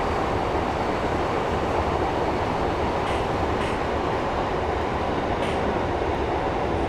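A Class 142 diesel train in Train Simulator 2015, running the Middlesbrough to Newcastle route with power idled, gives a steady, loud rumble of engine and rolling wheels that stays even throughout.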